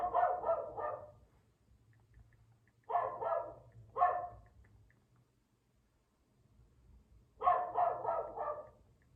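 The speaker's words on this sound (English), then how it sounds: "can you hear those dogs?" Dogs bark in quick clustered bursts from some distance away, with quiet gaps between the volleys.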